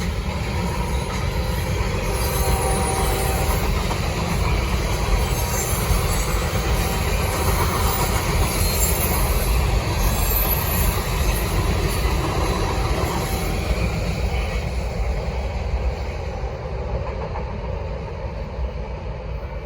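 Norfolk Southern freight train D09 rolling northbound through Gaffney, a loud, steady rumble of wheels and cars passing close by with faint squeals, sustained throughout and tapering slightly at the very end.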